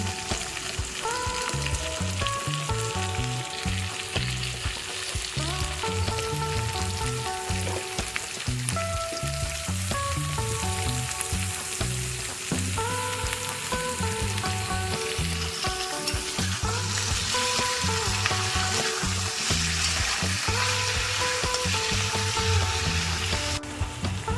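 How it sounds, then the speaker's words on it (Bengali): Diced onion, capsicum and tomato fry for chilli chicken in a pan, giving a loud, continuous sizzle with rhythmic stirring scrapes throughout and no talking. "ডুমো করে রাখা পেঁয়াজ ক্যাপসিকাম আর টমেটো দিয়ে আমি এখানক্ষণ ভাজা ভাজা করে নেব"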